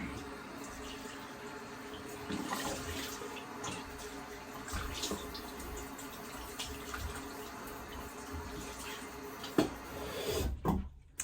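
Tap water runs steadily into a sink for a quick rinse after a shave with a Schick razor, a continuous broadband wash with a few soft knocks and clatters near the end.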